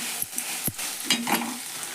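Sprouted moth bean stir-fry with salt being stirred in a pan: a soft steady sizzle with a few scraping spoon strokes against the pan, close and fairly quiet, no voices.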